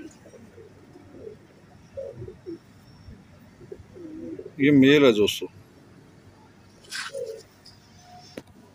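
A Salara teddy pigeon pair, male and female, coo softly and close by, with a louder burst of cooing or wing flutter midway; someone speaks briefly during the cooing.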